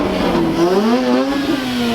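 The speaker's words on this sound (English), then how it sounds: "You got an RX-8 revving over here." A Mazda RX-8 rotary engine revs at a car meet, its buzzing, motorcycle-like note climbing and wavering in pitch, loud and close for two seconds with no talk over it.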